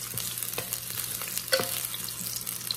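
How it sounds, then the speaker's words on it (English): Onions sautéing in a hot pan over high heat, a close, steady sizzle and crackle with a soft scrape of stirring partway through. "saute them just to add flavor to the pan"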